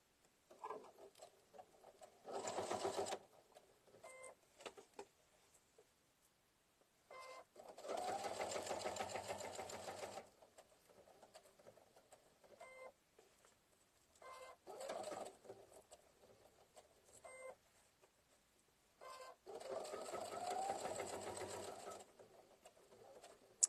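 A sewing machine stitches a towel with a bee and beehive design, sewing on Velcro, running in four loud bursts of rapid whirring separated by quieter pauses with light handling.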